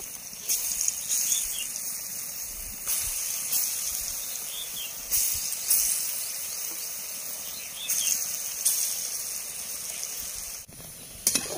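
Chickpea flour boondi deep-frying in hot oil for motichur laddu, a continuous bright hiss and fizz with bursts that swell every few seconds, steady and close, ending in a brief clatter.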